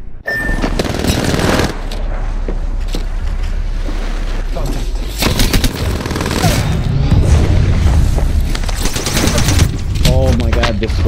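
Rapid video-game gunfire firing disruptor rounds in Apex Legends, loud bursts and booms piling up over several seconds, with a player's voice talking over the shooting.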